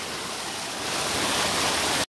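A small waterfall in rocky terrain near a mineral vein rushes as a steady, dense wash of water noise, close and loud, before cutting off abruptly.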